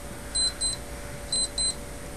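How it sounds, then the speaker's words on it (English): An electronic alarm sounds in a quiet room, giving two pairs of short high-pitched beeps about a second apart over a low steady hum. "It's an alarm going off."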